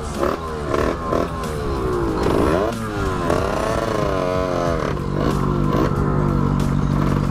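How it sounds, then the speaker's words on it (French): A new motorcycle's engine roars loudly and close, its pitch sweeping up and down as it revs, with some clatter mixed in and no talking. "Oh ben t'as vu la nouvelle moto."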